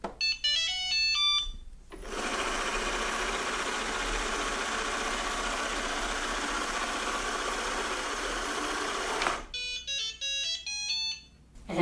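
A Shark Ion RV720 dual action robot vacuum docking at its charging station, giving short series of electronic melodic beeps before and after a stretch of steady motor whirring.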